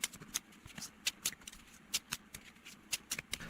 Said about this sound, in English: I'm going to give the cards a quick shuffle.